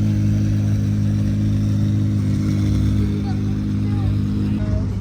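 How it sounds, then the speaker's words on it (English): A McLaren Senna GTR road-legal track hypercar drives away from a hypercar show, its engine a steady, loud low drone with layered harmonics held throughout, with a slight rise near the middle. "Senna GTR is leaving."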